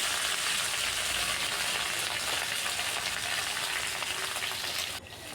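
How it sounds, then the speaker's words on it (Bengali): Chopped ridge gourd sizzling and frying in a nigella seed tempering in a pan, a steady close crackling hiss that holds evenly and drops slightly near the end. "এবার কেটে রাখা ঝিঙ্গে দিয়ে দিচ্ছি এর মধ্যে।"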